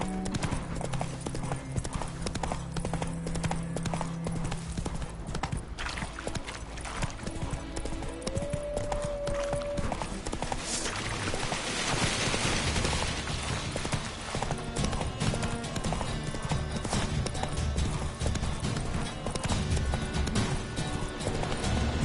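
Horse hooves clip-clopping in a steady galloping rhythm in The Witcher 3, continuous and fairly loud over game music and ambience, with a brief whinny and a voice urging the horse on.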